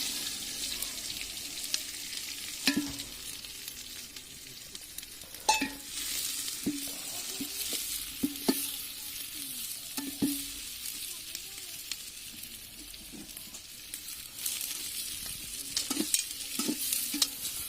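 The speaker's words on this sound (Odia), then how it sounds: "ପିଆଜ କଷା ଚାଲିଛି ଆଉ।" Onions sautéing in a pan for a village-style chicken curry cooked outdoors at night, a steady broad sizzle with repeated scrapes and knocks of a spoon stirring against the pan.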